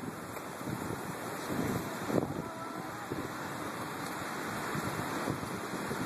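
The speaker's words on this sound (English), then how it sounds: "we'll look at the ocean. You can hear it more than anything else." Steady wash of ocean surf at Newport Beach, California, with a constant roar of breaking waves, mixed with wind rumbling across the microphone, no voices.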